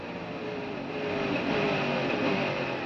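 Mercedes race car accelerating on a straight at the 24 Hours of Le Mans, heard from an onboard camera as a loud, steady engine roar that swells slightly, with no talk.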